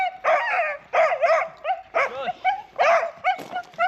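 A dog at a caravan and motorhome club site barks in a quick series of about eight sharp, close barks and yips, spaced roughly half a second apart, with no talking.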